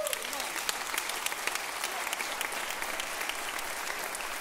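A church audience applauds, a steady wash of many hands clapping that runs evenly throughout at moderate loudness.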